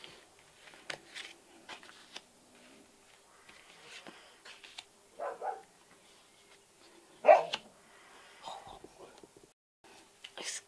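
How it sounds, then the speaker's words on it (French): Dogs bark and yip in short, scattered bursts at a moderate distance, with a few whimpers and some soft speech between them in a quiet room. "mes chiens aboyaient"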